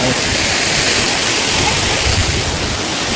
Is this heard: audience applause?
no